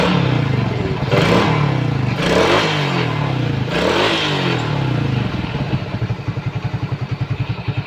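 A Suzuki Shogun 110 motorcycle, previously completely dead and being tested with a replacement CDI ignition, fires up and revs loudly with clattering mechanical noise, then settles into a steady, rhythmic idle close by.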